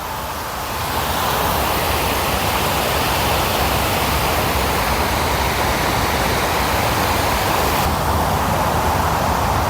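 A water feature at the 360 Mall in Kuwait, heard as a loud, steady rush of falling water that fills the whole scene without pause and with no voices.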